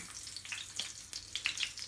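Fish dipped in marinade frying in a pan, a steady crackling sizzle with brighter spits and pops scattered throughout, close and fairly quiet, no voices.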